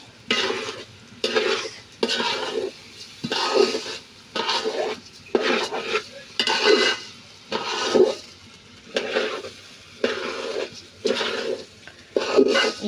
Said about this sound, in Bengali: আমি সুন্দর মতন আমি পোলাওটা ভেজে নিচ্ছি।